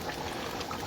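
Brief, faint bubbling of a thick British Indian restaurant base gravy simmering in a pot, a dense, steady gurgle with no talking.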